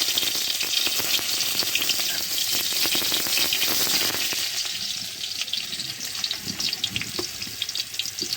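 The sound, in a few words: parshe fish frying in oil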